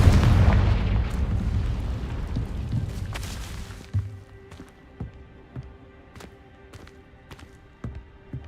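A fiery Confringo spell explosion in the game Hogwarts Legacy bursts loudly at the start and rumbles away over a few seconds, followed by scattered faint thuds and pops.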